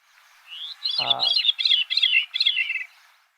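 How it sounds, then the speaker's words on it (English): A single songbird sings two voices at once, a brief low harmonic tone rising under a bright run of rapid chirping high notes, clear and close for about three seconds. "that is the bird's melody and harmony at the exact same time. Two voices from the same bird."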